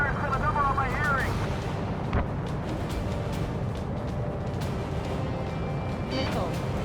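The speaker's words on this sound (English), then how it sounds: "The artillery fire's got a number on my hearing!" Artillery fire pounds through a loud Ace Combat 7 battle, with heavy booms and sharp blasts thudding over a constant roaring rumble while voices shout over the din.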